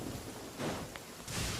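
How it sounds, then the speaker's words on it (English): Steady hiss of rain falling in the Genshin Impact game world, a broad wash of noise that swells briefly in places and plays with no voices over it. "Right, it is raining, so nothing I can do about that."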